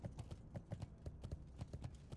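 Steady clip-clop of horse hooves trotting at an even rhythm in World of Warcraft: The Burning Crusade, fairly faint, with no talking over it.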